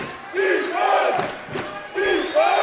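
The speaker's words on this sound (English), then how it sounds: "And this crowd for Alameda, at least in front of us, getting loud" A high school basketball crowd for Alameda at a section championship final swells into loud cheering and shouting, rising in waves that dip briefly and surge again, close and filling the gym.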